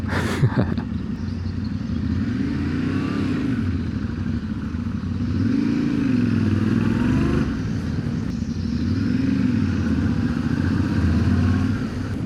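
An adventure motorcycle rides through town streets, weaving between shop lots, its engine droning steadily and rising and falling with throttle, along with clattering and wind rumble throughout.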